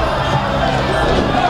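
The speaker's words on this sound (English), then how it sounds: "And the crowd reacts." Crowd at a women's wrestling match at Fun Fun Fun Fest 2010 reacts with a brief, continuous wash of noise, fairly loud and steady throughout.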